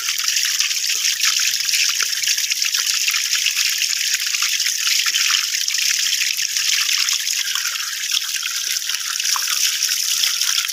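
Water from a natural spring trickles steadily and close by, a bright continuous babble that runs alone with no talk over it.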